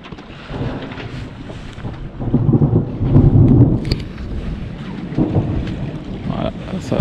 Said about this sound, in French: ça c'est le grain qui est derrière.